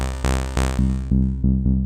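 Trance sub bass synth played with no high-cut filter, heavy and bright, in a steady rhythm of sustained notes with upper harmonics fading in later notes, alone and loud.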